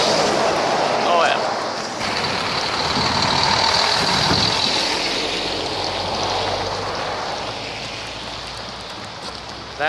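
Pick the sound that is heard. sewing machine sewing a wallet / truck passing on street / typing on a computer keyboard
truck passing on street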